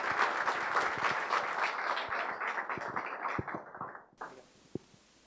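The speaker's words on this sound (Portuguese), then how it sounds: "pedir uma salva de palmas para ele, Rafaelo Sapia Pedalino." An audience at an evening talk on the collaborative economy applauds the speaker, a full round of dense clapping that thins out and stops after about four seconds, leaving a few isolated claps in near silence.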